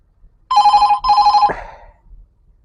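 A phone alert sounds for an incoming ride request on a taxi driver's ride-hailing app, a bright electronic ringing tone in two quick bursts followed by a softer, decaying note, loud and close with no talking.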